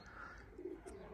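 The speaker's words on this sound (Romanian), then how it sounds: "Probabil că sunt undeva la 200 de porumbei sosiți." Racing pigeons coo softly at an aviary during a 400 km derby, a few low faint coos over quiet background noise.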